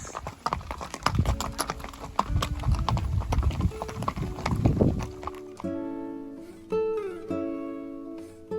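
Hooves of a horse walking clip-clop at steady pace during a ranch trail ride at Rancho Las Cascadas, fairly close, with outdoor ambience; the hoofbeats drop off midway, leaving a tonal background sound.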